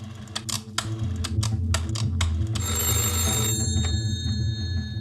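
A telephone rings with sustained bright electronic tones that begin midway, after a run of sharp, quick computer keyboard clicks in a quiet room.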